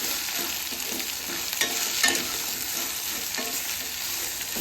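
Ridge gourd fries in a pan with a steady close sizzle, broken by soft scraping stirs and a few louder clacks of a spoon against the pan, with no voices.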